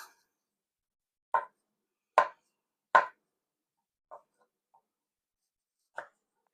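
A knife chopping the ends off a striped zucchini on a cutting board, several sharp isolated thuds spaced about a second apart, close and clear against silence.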